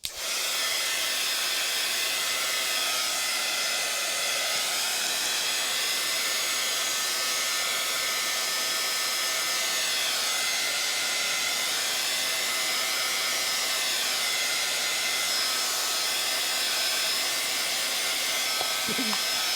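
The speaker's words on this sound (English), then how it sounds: "I'm going to use a heat gun, and it's a little bit loud" Heat gun drying a wet mixed-media holiday tag at a crafting table, a steady loud blowing hiss that runs continuously throughout with no breaks.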